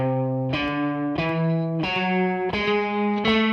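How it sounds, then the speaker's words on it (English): Electric guitar with distortion and chorus effects climbs the melodic minor scale, one sustained note at a time in an even, unhurried rising sequence, every tone ringing clearly with no talking. "the third scale is the melodic minor scale"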